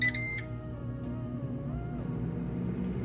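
An air fryer set to roast gives a short series of loud electronic beeps as start is pressed, followed by the low steady hum of the running appliance.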